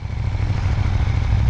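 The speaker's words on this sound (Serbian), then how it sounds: "fabrički auspuh je instaliran, motor je spreman" A motorcycle with its factory exhaust runs at a steady idle, giving a close, even low rumble with no voices over it.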